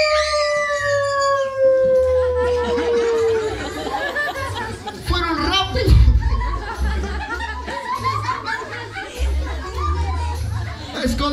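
A person mimics a wolf's howl while telling a children's story about two little pigs, a long falling wail followed by lively chatter, laughter and children's voices.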